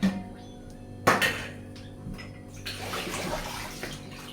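Bowls washed under running water at a kitchen sink, with a clatter of crockery and a steady trickle of water, close by and without talking.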